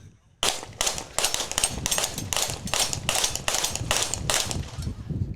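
Pistol shots at a 3-gun shooting competition, about a dozen sharp near reports fired in quick succession with suppressors, two shooters firing at once.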